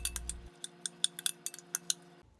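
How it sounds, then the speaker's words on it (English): A spoon clinks and scrapes against a bowl while stirring salsa criolla, giving a quick series of light, close metallic ticks in an uneven rhythm. "Then give your salsa criolla a good stir."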